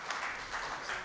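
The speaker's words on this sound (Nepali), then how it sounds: "फाइन प्रिन्ट प्रकाशकलाई पनि ताली बजाइदिन मैले अनुरोध गरेँ" An audience at a book launch applauds for a publisher, a soft, steady patter of clapping heard at moderate distance for a second.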